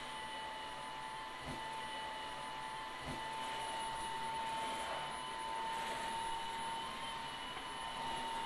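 Tesvor R5 cordless wet dry vacuum running steadily, sucking up scattered shells with a constant whine and airy roar, a couple of faint clicks or rattles as pieces go in.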